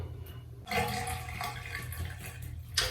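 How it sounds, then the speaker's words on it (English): Water rushes and gurgles steadily down a bathtub drain for a few seconds, a close, continuous wash with a brief bright splash near the end. "That's the sound of a good running drain."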